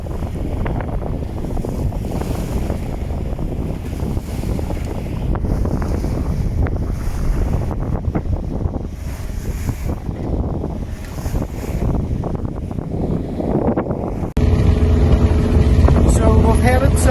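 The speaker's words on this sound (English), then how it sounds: "we've got the engine going, just trying to power us through these waves" Sailboat under engine power pushing through lumpy swell into a strong headwind on the Irish Sea, with constant roaring wind buffeting the microphone and rushing water, the noise growing louder and denser toward the end.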